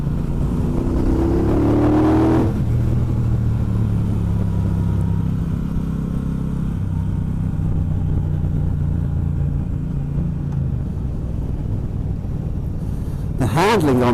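A 2018 Triumph Bonneville Bobber Black motorcycle engine accelerates while riding, its rising harmonic drone climbing in pitch and settling into a steady mid-range rumble, loud and close throughout, with a brief sharp rev near the end.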